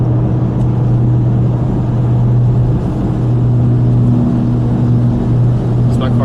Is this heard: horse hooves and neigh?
no